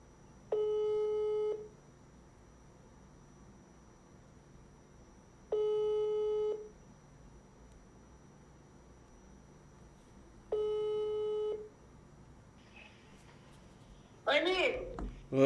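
Three evenly spaced ringback tones about five seconds apart, each a steady electronic burr lasting around a second, heard while a phone call connects; a brief burst of voice and noise cuts in at the very end as the call is answered.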